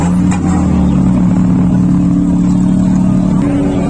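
A modified car's engine idles with a loud, steady mid-pitched rumble at an auto show in Lahore, Pakistan, close by and continuous with a faint rev near the start.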